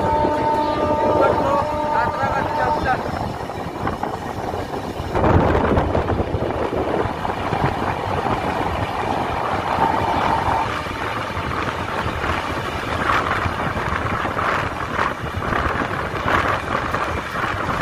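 Howrah-Ahmedabad superfast express leaving Howrah station: a loud, continuous rumble of the moving train with clanks and a brief surge near the middle, with some faint voices mixed in.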